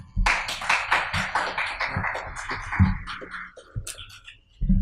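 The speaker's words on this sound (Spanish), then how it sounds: "Pido por favor le demos un fuerte aplauso" Audience applause at a thesis presentation event, a burst of scattered clapping in a room that builds quickly and thins out toward the end, with a few louder individual claps.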